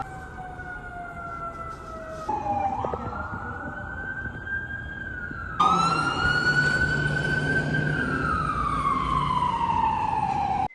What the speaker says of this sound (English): The sirens on emergency vehicles, are they always this loud